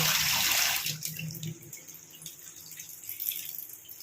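Tiffin boxes are washed under a running tap, with a loud gush of water at first, then quieter splashing, dripping and the clatter of handled containers.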